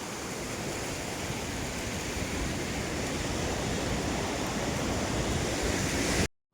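Sea waves wash continuously onto the shore at the Alang ship-breaking yard on a rainy day, a loud, steady roar of surf mixed with wind buffeting, with no voices.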